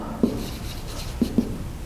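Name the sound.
writing on a board during a lecture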